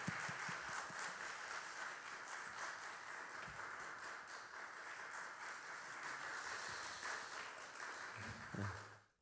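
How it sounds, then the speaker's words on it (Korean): Steady applause from a church congregation welcoming a pastor to the pulpit at an early-morning service, sustained dense clapping across the room that fades out at the end. "우리 목사님 나오실 때 우리 뜨거운 박수로 환영하겠습니다."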